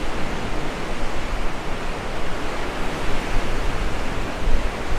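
Large sea waves surge and crash near the pier at Clacton-on-Sea, a dense, continuous broadband wash of surf that stays loud and steady throughout, with no voices.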